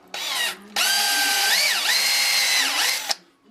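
Drill spinning a Blue Monster pipe cleaning tool in reverse for bathroom plumbing, a loud close motor whine in two bursts, a short one then a longer run with a pitch dip midway before stopping.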